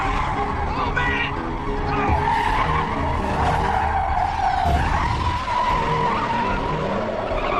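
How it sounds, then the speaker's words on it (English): A car brakes hard on a road and its tires skid in a loud, sustained screech lasting about seven seconds, close and steady with no break. "He hit the brakes right in front of me."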